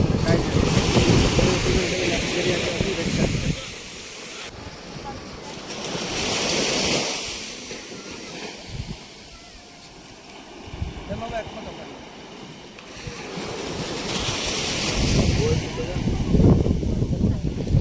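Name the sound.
sea waves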